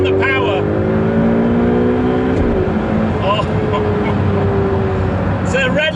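A Ferrari 488 Pista screams under hard acceleration on a racetrack, its engine pitch sweeping upward through the revs and snapping down at an upshift, loud and close, with a voice talking over it.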